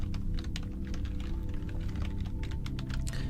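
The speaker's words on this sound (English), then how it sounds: "I hope you like the keyboard sounds" Rapid, close keystrokes clatter on a computer keyboard in an irregular rhythm over a steady low hum, with no talking.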